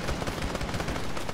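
A mounted turret machine gun in a Halo-themed Arma 3 mission fires a sustained, loud, close stream of rapid shots with dense rhythmic thuds and no pause.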